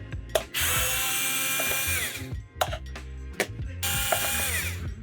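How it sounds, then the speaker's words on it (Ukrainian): A Deli cordless screwdriver fitted with a magnetised Torx T10 bit unscrews a Makita-style battery pack, giving loud close whirring bursts of the motor with clicks and ratcheting between them, three long runs broken by short stops. "з бітою Torx T10 спробую розкрутити ось цей акумулятор під макітку"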